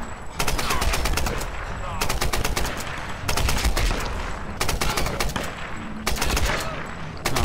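Rapid bursts of gunfire in the Tomb Raider video game, loud and close, repeating in several volleys of quick cracks separated by short pauses, with game ambience and a voice faintly underneath.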